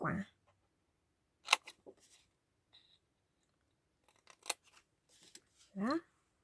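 Scissors snip the corners of a paper pocket for a handmade mini album, giving a few short, crisp cuts in separate bursts with quiet pauses between them and no talk.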